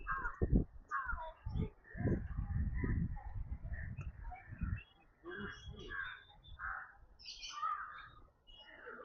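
Small birds at their nest, faint chirps and calls scattered through the scene, partly under a low rumble early on.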